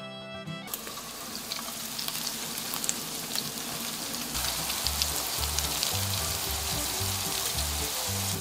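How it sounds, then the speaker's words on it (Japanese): A steady, soft sizzle of pork and king oyster mushrooms steam-frying in a covered pan over medium-low heat, with faint bubbling and crackling throughout and no talking. "弱めの中火にして蓋をして3分蒸し焼きします"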